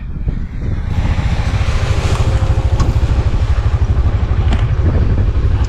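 A Can-Am ATV engine runs up close at a loud, steady, throbbing pitch while being loaded onto a trailer, with a gust of wind noise across the microphone and no talk.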